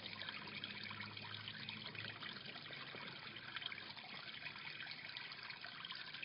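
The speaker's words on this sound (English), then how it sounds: "Quick shower because you boys haven't been bathed." Shower water runs steadily while puppies are bathed, a continuous close hiss and patter of spray with a constant, even level throughout.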